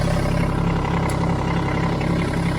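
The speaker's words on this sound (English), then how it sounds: "If you hear it going where the engine is bogged down, like that, that means you went the wrong way." A backhoe engine runs steadily under load after its hydraulic valve is switched, a loud continuous low rumble that sounds strained and bogged down, with no voices.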